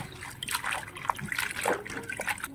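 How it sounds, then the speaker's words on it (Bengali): Malabar spinach (pui shak) leaves being washed in water, with continuous close splashing, trickling and sloshing as the leaves are swished around, a few sharper splashes standing out. "এইবার শাকটা ধুয়ে নেই।"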